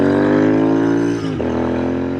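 Royal Enfield Interceptor 650 twin-cylinder motorcycle engine running close up, a steady loud idle-to-revving drone with a brief dip in pitch as the throttle eases, then settling back to a strong even hum.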